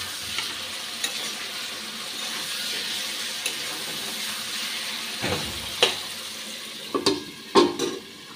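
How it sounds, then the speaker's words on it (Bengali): Radish fries with spices in a covered pan for a katla fish curry, a soft steady sizzle that holds low throughout, broken near the end by a few louder clatters and stirring scrapes. "মূলোটা আমি ঢেকে ঢেকে মশলার সঙ্গে ভাজছি।"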